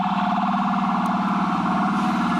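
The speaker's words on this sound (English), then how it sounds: "always busy here in New York City with the sirens" Wailing emergency sirens blare steadily over a dense New York City street roar, loud and continuous, with traffic rumbling underneath.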